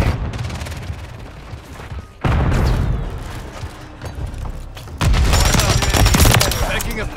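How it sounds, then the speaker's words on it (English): Call of Duty Modern Warfare 3 multiplayer gunfire in a Stash House match with a Pulemyot 762: loud, sustained automatic bursts and booming impacts in dense waves, with voices talking over the combat. "Taking effective fire."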